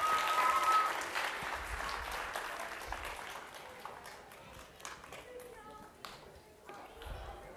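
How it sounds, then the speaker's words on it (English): An audience at a family science night applauds volunteers, a dense burst of clapping that is loudest at the start and then thins into scattered claps, with voices talking over it. "Round of applause for my lightning throwing volunteers."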